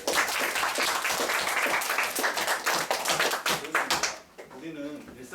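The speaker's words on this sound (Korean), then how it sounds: "박수 부탁드립니다." Audience at a school invention showcase for sixth-grade and middle-school students applauds steadily for about four seconds, a dense wash of clapping that then fades as someone begins speaking.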